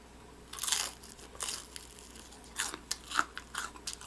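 Crisp crunchy chewing of fried chicken up close, a series of sharp crackling bites at an irregular rhythm over quiet background.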